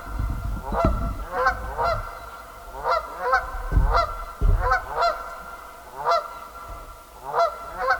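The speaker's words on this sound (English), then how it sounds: "Two ducks have returned to the lodge." Two ducks call loudly near a beaver lodge, a string of harsh, honking, goose-like squawks arriving in repeated bursts with short gaps, close and strong, with no talk.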